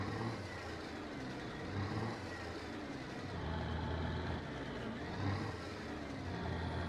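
A steady, low Ford 1210 truck engine in Euro Truck Simulator 2 rumbles continuously at moderate volume, with slight swells in its drone and no talking.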